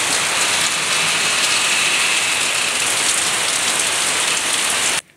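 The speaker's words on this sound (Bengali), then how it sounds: "অনেক জোরে বৃষ্টি হচ্ছে বন্ধুরা।" Heavy rain pours down loud and steady as a dense, constant hiss with no voices, then cuts off abruptly near the end.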